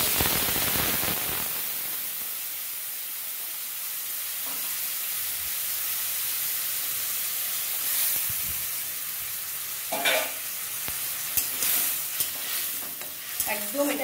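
Water-thinned spice paste hisses in a pan with fried potato for a vegetarian soybean curry, a steady sizzle with a spatula scraping and stirring, louder bursts of bubbling toward the end, no voices.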